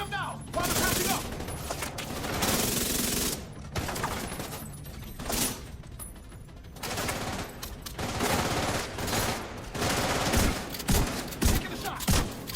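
Bursts of automatic gunfire crackle in The Division 2 during a firefight, loud repeated volleys with short pauses between them, with voices calling out over the shooting.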